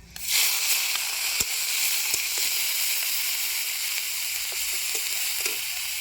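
A steady, close sizzle of ground ginger, garlic, onion and green chilli pastes frying in hot oil with cumin seeds, with a few faint clicks of stirring and no voices.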